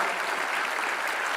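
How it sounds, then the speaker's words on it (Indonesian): An audience at a political speech applauds with dense, steady clapping at close range that holds evenly throughout. "Mari kita tepuk tangan untuk Christina dan semua anak Indonesia,"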